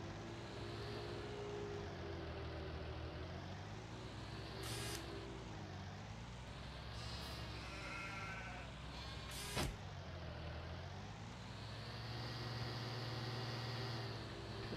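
Sheep bleating in the farming video game Farming Simulator 19, heard amid a steady drone of machinery or aircraft noise, with a few brief sharper sounds breaking through.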